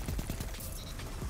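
Rapid shotgun blasts crack out in Destiny, a dense burst of loud, close gunfire with sharp reports packed into under two seconds, no talking over it.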